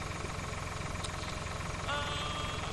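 Tractor engine idling in Farming Simulator 2013, a steady low rumble held throughout at moderate level, with a faint higher tonal whine creeping in near the end.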